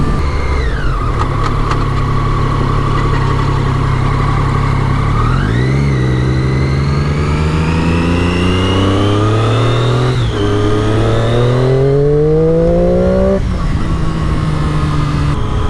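A 2015 Triumph Daytona triple motorcycle engine revs up repeatedly, loud and close, its pitch climbing and falling in several rising pulls with a rough mechanical drone between them.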